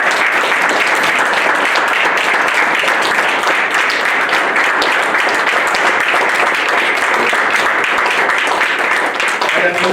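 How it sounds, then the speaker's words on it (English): Loud, sustained round of applause from an audience at a township trustees' public meeting, dense steady clapping filling the room for the whole stretch with a little talk mixed in. "I just want everyone to please give these five a round of applause."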